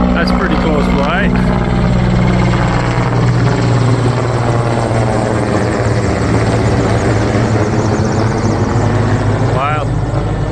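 Low-flying aircraft, likely a helicopter, passing close overhead with a loud continuous thudding engine roar that shifts in pitch as it moves, with people talking underneath.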